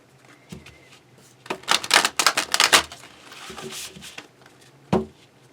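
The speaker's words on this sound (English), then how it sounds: "let me see if I can book shuffle it" A trimmed tarot deck being bridge-shuffled by hand: a run of rapid, crisp card riffles and flutters in the middle, with a few softer taps before and a single sharp snap near the end, close and fairly clear.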